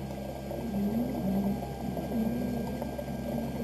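An optical lens edger's bevel wheel grinds an eyeglass lens for Ray-Ban 5121 Wayfarers with prescription Transitions lenses, a steady low machine drone and wet grinding hum that surges slightly as the lens turns, with no voices.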